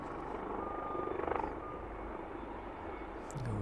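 Steady low jet engine roar of an airliner landing at East Midlands Airport, heard from a distance at a constant level with a faint rise in noise near the end.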